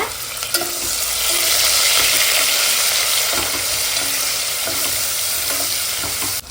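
Green chillies and onion fry loudly in a pan, a steady dense sizzle with a few light stirring knocks, close and continuous with no talking.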